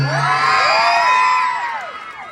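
A crowd at the Queen of Ilagan 2025 pageant cheers and shouts, shrill whoops and high yells sweeping up and down over a loud, sustained roar that fades a little at the close.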